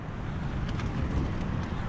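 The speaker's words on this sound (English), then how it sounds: "It's still really windy, not sure if you can hear it." Steady, strong storm wind outside a tent in winter woods rumbles and buffets continuously, with a muffled low roar and no talking.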